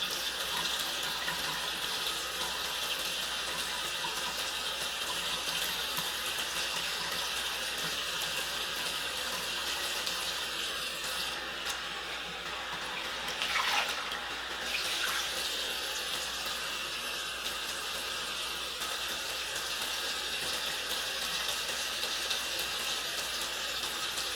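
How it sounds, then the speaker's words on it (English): A bathroom tap runs continuously while a face is rinsed, a steady close rush of water with brief splashing changes partway through, no talking. "I rinse off the majority of it first, and then I'll go in with this."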